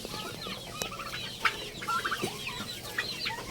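Chickens cluck and cackle close by, with several short squawks and bursts of clucking breaking out over a steady background hum, and no voices present.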